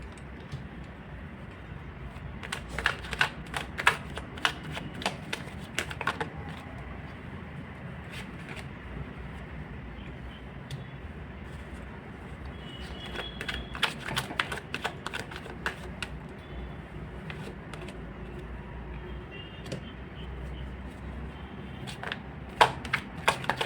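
Tarot cards being shuffled and drawn, heard as soft, quick flurries of papery flicks and taps in a quiet room, coming in clusters with pauses between them and no voice.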